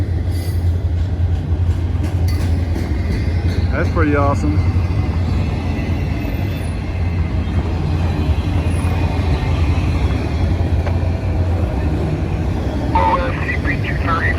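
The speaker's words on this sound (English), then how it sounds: "two trains on the bridge at the same time." Two trains pass on a bridge at the same time, rumbling steadily with a low drone, broken by a couple of brief metallic squeals, while a person speaks briefly over the noise.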